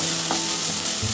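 Ginger garlic paste frying in a pan, a soft continuous sizzle heard close up for a brief moment with no talk.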